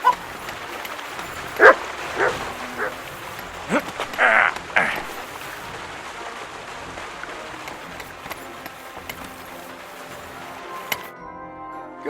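A dog in Kingdom Come: Deliverance 2 gives a few short, moderately close barks and yips early on, then the scene settles into a low ambient background.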